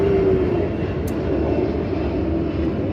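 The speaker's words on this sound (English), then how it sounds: "Aeroplane, aeroplane." Aeroplane passing overhead at night, a loud continuous engine drone and rumble holding steady throughout with no talking.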